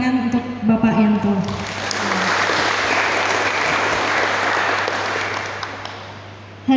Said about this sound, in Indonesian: Marilah kita beri tepuk tangan untuk Bapak Yanto